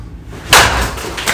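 A Monsta DNA Legacy softball bat is swung and strikes a ball, a single sharp whooshing crack arriving after a quiet moment, followed by a brief trailing rumble.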